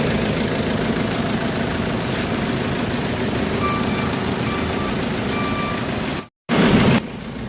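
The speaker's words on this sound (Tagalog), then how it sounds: "Tingnan natin yung andar ng makina kung kumusta ba yung mga sistema doon." A Hyundai Santa Fe engine idles steadily after a cylinder head resurface for overheating, with a low, even rumble, a few faint beeps around it, then cuts out briefly before resuming.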